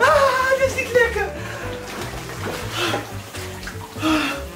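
Water rushes and splashes into a home jacuzzi, a continuous gush heard under lively talking voices.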